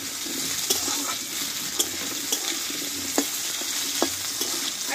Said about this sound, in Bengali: এই তেলে যেটা একটু আলুটা একটু নরম করে দেবো ভালোভাবে কষিয়ে